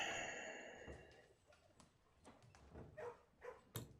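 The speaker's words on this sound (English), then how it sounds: "I keep hearing bark, bark, bark, bark." Repeated dog barks from the video game Blue Prince, several short yaps spread across a few seconds over a steady tonal game background, moderately faint and with no talking.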